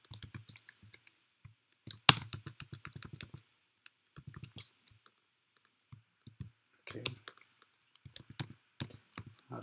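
Someone types text on a computer keyboard while laying out an A1 poster design, irregular bursts of close, crisp key clicks with short pauses between runs, no talking.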